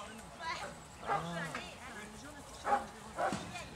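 A dog barks several times at irregular intervals, moderately close, partly under people talking in Spanish, with some of the barks sounding like strained yelps.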